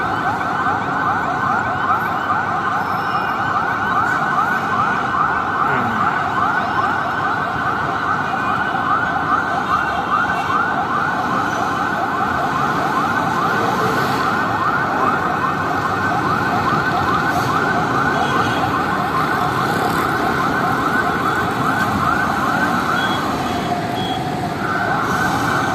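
A fire brigade siren wails steadily and loudly as the engine arrives at the burning Jang/Geo building, its warbling tone unbroken for the whole stretch over a constant background roar.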